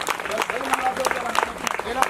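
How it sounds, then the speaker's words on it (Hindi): An audience claps at a state-level Ramayana recital gathering, a short burst of scattered applause mixed with a voice speaking over it. "बहुत जोरदार ताली।"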